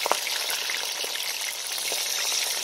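Onion and pepper fry in a pot for Jamaican escovitch fish, a steady dense sizzle crackling close up and continuously, with no talking.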